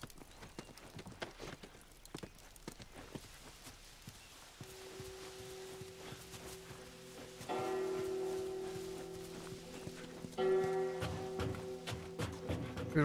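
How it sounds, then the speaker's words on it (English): A bell tolls repeatedly in a game set in the Pittsburgh military zone of The Last of Us, sustained tones ringing over footsteps and ambient clatter, growing louder toward the end. "Who's ringing that bell?"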